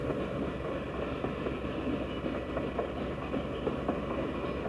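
A train rumbles past in the background outdoors at night, a steady low continuous roll with faint clickety-clack of rail cars, distant and unbroken, with no talking.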